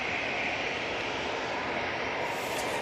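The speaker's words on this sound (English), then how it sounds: "787-9 Dreamliner coming in from Montego Bay with a flight time of 8 hours" A TUI Boeing 787-9 Dreamliner arriving from Montego Bay makes a loud, sustained engine roar with a steady tonal whine, close and unbroken for the whole moment.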